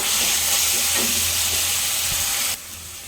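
Onion with ginger-garlic paste fries in a pan for a cabbage curry, a loud steady sizzle and hiss close up that suddenly drops near the end.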